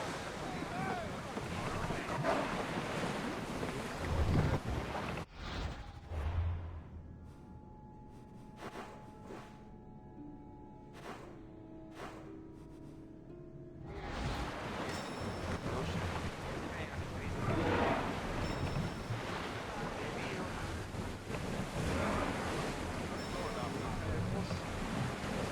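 Wind and broad wave wash around a sailing ship at sea in Assassin's Creed Odyssey, steady and full for several seconds, dropping to a quieter stretch with sustained tonal music, then returning to rushing water and wind.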